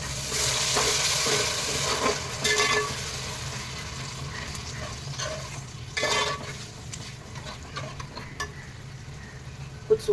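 Yogurt poured into a pan of frying ginger, garlic and chilies for chicken kofta biryani: a steady close sizzle with stirring scrapes and brief bursts as it hits the hot oil, no talk.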